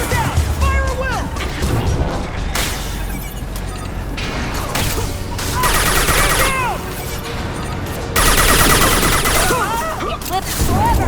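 Heavy gunfire rips through a Mass Effect 2 firefight, dense bursts of shots and impacts in rapid clusters, loud and near, with shouted voices breaking in between volleys.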